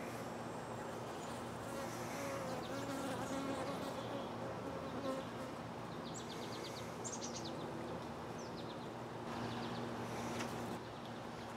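Honeybees swarming around an open hive during a hive inspection, a steady dense buzzing drone throughout, with faint higher chirps scattered in the background and no speech.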